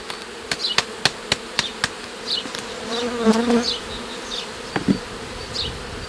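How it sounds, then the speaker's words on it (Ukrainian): Honey bees buzzing loudly as a frame from a Ukrainian-Alpine hive is shaken, with a string of sharp knocks against the box at the start and a swelling swarm drone in the middle. "Матки немає, струшую ці бжоли"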